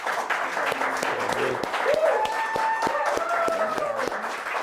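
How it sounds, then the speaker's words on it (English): An audience claps in sustained applause at a hip-hop talk show recording, steady and fairly loud throughout, with a voice speaking over it. "we gotta give her a round of applause for being so strong"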